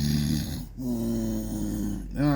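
A voice imitates snoring, drawn-out rumbling snorts repeated three times with short pauses between, close and loud.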